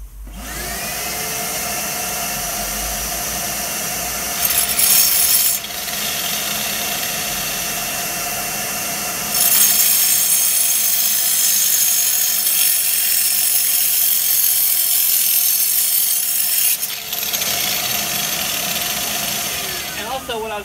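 Angle grinder fitted with a diamond blade cutting old mortar out of patio joints, a steady loud whine running throughout, briefly dipping and rising around the middle as the cut shifts.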